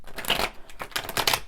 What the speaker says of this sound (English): So I'm going to start by shuffling.